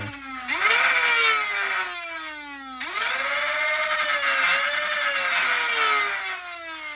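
Dart Zone MK3 toy foam blaster flywheel motor revving, a loud whining whir that spins up sharply twice, each time sliding down in pitch as it winds off, with a buzzing vibration from a cracked cage.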